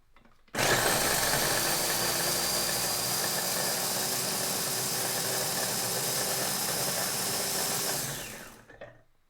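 A food processor blends chillies in one loud, steady motor whir that runs for about eight seconds before winding down, with no talking over it.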